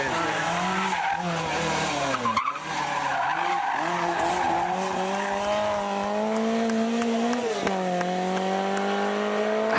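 Group B and legendary rally cars racing and skidding, with engines wailing through rising gear changes, loud and close, mixed with tire noise on the stage surface and a sharp crack partway through.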